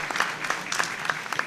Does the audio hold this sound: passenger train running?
no